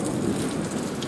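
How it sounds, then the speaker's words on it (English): Loud, dense rain pouring down during a thunderstorm, a steady close hiss with a low rumble beneath, no voices. "You better see this thunder, because this thunder is really bad."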